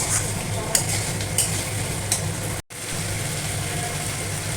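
Chicken curry fries in oil in a wok with a steady close sizzle, broken by a few slow stirring scrapes and one brief dropout before the hiss resumes.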